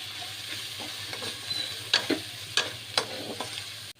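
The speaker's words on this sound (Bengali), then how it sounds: "মশলাটা আমার কষানো হয়ে গেছে" Masala spice paste with dried chili powder sizzles and fries steadily in a pan, with scattered louder scraping stirs breaking through the continuous hiss.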